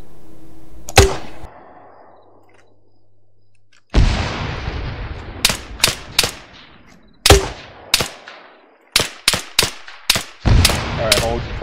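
Loud gunfire in the military shooter game ARMA 3: single close rifle shots and quick bursts crack out with echoing tails, separated by brief pauses, and there is no talk.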